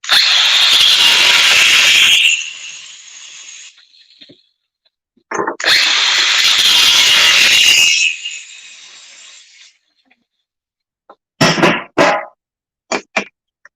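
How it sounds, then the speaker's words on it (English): An angle grinder cuts copper pipe off a brass fitting in two loud, close, sustained whining bursts of a couple of seconds each. Short clanks and knocks of metal follow after a quiet gap. "I am going to have to use a grinder here"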